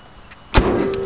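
A door of a 1997 Toyota Land Cruiser SUV slams shut with a single loud, close thud partway through, then a low steady hum carries on behind it.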